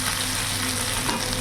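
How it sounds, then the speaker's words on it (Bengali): Whole small chuno fish frying in hot oil in a pan, a dense, even sizzle heard close and steady without pause. "মাছগুলো ভাজা হয়ে গেছে, এবার নামিয়ে ফেলবো।"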